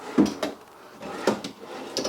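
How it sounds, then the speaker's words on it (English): Drawers in the kitchen of a 2019 Forest River Cardinal Explorer 392 RD fifth wheel RV slide open and shut, giving several close wooden knocks and thuds in an uneven rhythm with quiet pauses between. "a drawer underneath the oven, a full bank of drawers in your island"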